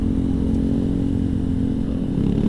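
Motorcycles and scooters, Yamaha NMAX among them, running in heavy holiday traffic on the road from Bandung to Garut, a loud steady engine drone with rumbling and faint revving as they pass close by.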